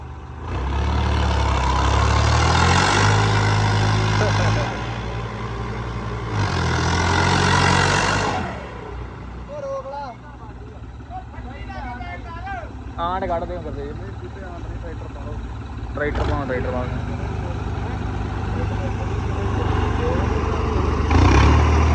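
A New Holland 3630 tractor engine runs with a heavy, loud rumble that swells in two strong bursts early on, then drops to a lower steady idle while people talk over it.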